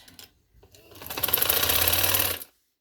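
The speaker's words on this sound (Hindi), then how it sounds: "मैं सिलाई लगाने लगी हूँ।" A sewing machine stitching fabric for a neck design, starting with a few tentative clicks, then running in a fast steady rattling burst for about a second and a half before stopping.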